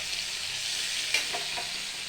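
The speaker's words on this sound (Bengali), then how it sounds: "মাছটা একটু হালকা করে ভেজে নেব" Prawns lightly frying in a pan for a Bengali masala prawn dish give a steady, close sizzling hiss throughout, with a few brief clicks of stirring near the middle.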